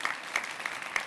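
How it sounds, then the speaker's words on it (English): Gala audience clapping at a European youth awards event, sparse and uneven, a handful of distinct claps standing out from a thin, slightly odd-sounding background of hand noise. "The clapping sounds weird."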